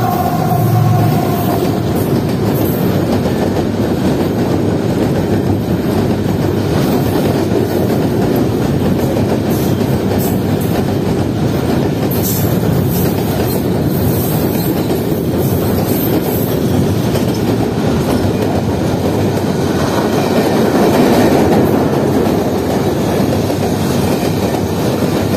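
A Pakistan Railways cargo train hauled by a diesel locomotive rolls through Rahim Yar Khan station, loud steady rumbling and clattering of wagons on the rails with faint wheel squeal, continuous and close throughout.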